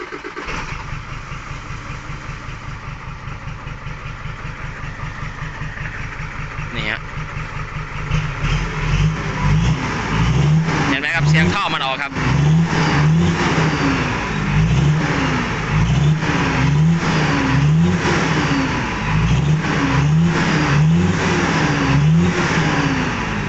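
A Hino J07E diesel truck engine runs steadily at idle, then, with the turbo's electrical plug disconnected, its note deepens and turns rougher and more rhythmic, with a regular pulsing throb close by.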